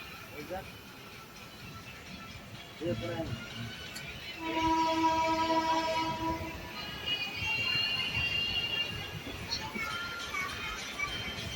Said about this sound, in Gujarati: ટ્રેન ઉપડી ગઈ છે.